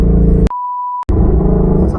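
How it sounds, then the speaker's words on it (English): A steady electronic censor bleep of about half a second cuts in sharply between stretches of rumbling engine noise from a Shelby GT350 running on E85. "I'll bleep that out. Beep."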